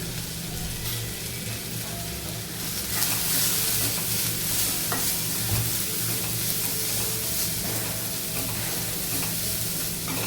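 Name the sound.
spices sautéing in a pan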